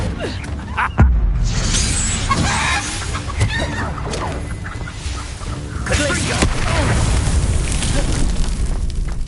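Repeated booming fire spell explosions from Hogwarts Legacy mix with game effects and creature squawks, dense and loud throughout, with a player's voice shouting over the action.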